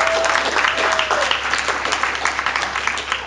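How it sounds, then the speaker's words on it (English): An audience gives a round of applause at the close of a net neutrality fireside chat, a steady wash of clapping that lasts the whole stretch with faint voices beneath. "Can we get one more round of applause for these guys?"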